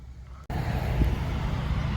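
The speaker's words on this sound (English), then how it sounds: "is there loud traffic going by today" Loud, steady road traffic rumbles past on a busy main road outside, a continuous broadband roar that swells suddenly after a quiet start and keeps going with no talk over it.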